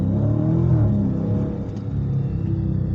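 A Dodge Challenger 392 V8 accelerates hard in track mode on a back road, its deep, loud engine roar climbing in pitch and then settling to a sustained rumble that fills the whole recording.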